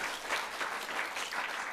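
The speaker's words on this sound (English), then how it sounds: "let's give them a strong round of applause, and all of those who work with them" Brief, dense applause from a convention audience honoring a panel, steady clapping at moderate distance with no pauses.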